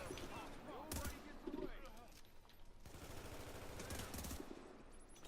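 Rapid ACR rifle gunfire in The Division, steady automatic bursts under a continuous game soundscape with a voice talking over it.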